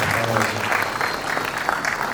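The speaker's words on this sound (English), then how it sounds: "Big round of applause for Ashwin conducting" A conference audience at a technology event claps for a panel moderator, loud and close, a dense, continuous round of applause over a faint low hum, lasting about two seconds.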